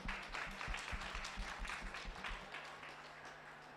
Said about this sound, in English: a final round of applause for our speakers